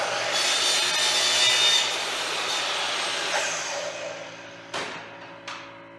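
A hand saw rasps steadily through a wooden rail post, cutting a 30-degree decorative angle for a loft in a pole barn shop, a continuous close scraping stroke that eases off and ends with two sharp knocks.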